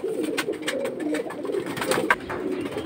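Many pigeons coo together in a steady, dense chorus at a busy pigeon market selling high-flying and fancy breeds, with no one speaking over the continuous murmuring calls.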